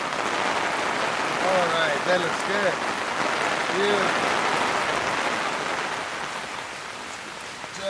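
Rain falls steadily outdoors around a barbecue smoker cooking brisket. The even hiss of rain runs throughout, with someone talking briefly over it.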